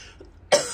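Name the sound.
cough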